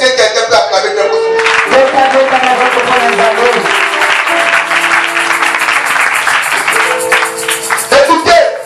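A church congregation bursts into loud, sustained applause, with music playing and a voice calling out over the clapping.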